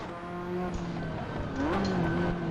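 Ferrari F40 with a big-turbo engine in Assetto Corsa, a steady loud engine drone with shifting harmonic tones as revs change, rising sharply near the end with faint tire noise.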